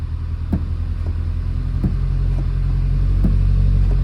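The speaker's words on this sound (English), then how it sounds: "when the car was running, the clutch wasn't working" A Subaru car engine idles with a steady low rumble, clutch not working, broken by a few faint knocks and clicks, with no talking.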